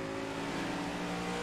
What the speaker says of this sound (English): Downshifts.